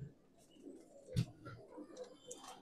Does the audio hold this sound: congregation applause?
no